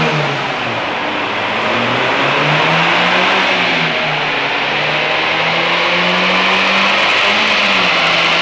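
A car engine revs steadily and loudly on a dynamometer, its pitch rising and falling as it holds a high, sustained drone.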